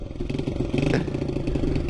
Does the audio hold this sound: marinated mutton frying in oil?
no